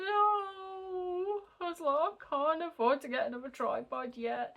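A house cat gives a long, drawn-out meow close by, followed by someone talking at length.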